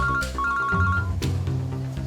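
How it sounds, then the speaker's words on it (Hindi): A mobile phone rings with a repeating electronic ringtone melody, clear and close, with no talking over it. "दया फोन कर रहा है।"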